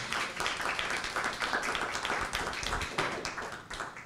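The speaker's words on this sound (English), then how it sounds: "Let's have a round of applause for our non-New York City folks." Modest applause from attendees at a library meeting about the census, quiet and somewhat sparse clapping with distinct individual claps, continuing at a low level for a few seconds.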